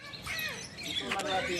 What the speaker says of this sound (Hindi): हाँ तोता ही बोल रहे थे सब ये वाले बोल रहे हैं